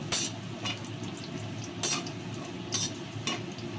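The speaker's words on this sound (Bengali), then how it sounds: "তেল গরম হয়ে গেছে পাঁপড়গুলো ভেজে নিচ্ছি" Papad frying in a little hot oil in a pan, with short bright sizzling bursts that recur every second or so over a low, steady background hum.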